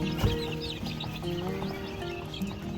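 Newly hatched chicks peep and chickens cluck on a farm, a close mix of high repeated chirps and lower clucks continuing without pause, with no talking.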